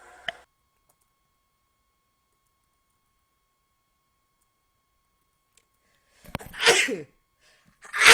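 A person sneezes once loudly and close, then after a quiet stretch a second burst follows, with a faint click near the start.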